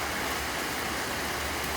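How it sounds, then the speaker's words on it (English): A heavy afternoon rain shower pours in a dense, steady hiss, loud and close, without any break. "This is how bad it's raining."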